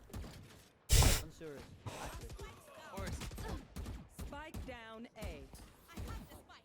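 Gunfire in the Valorant video game: a single loud, sharp shot near the one-second mark, then continuous talk over softer in-game sounds.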